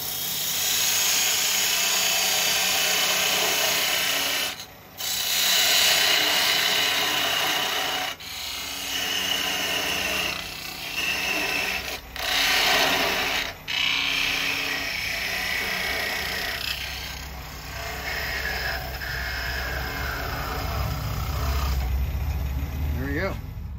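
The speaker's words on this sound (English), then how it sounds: "I'm going to go ahead and part it off." A wood lathe runs loudly and continuously while parting a small turned snowman off the stock, with a steady whirring drone and brief dips where the tool pauses against the spinning wood.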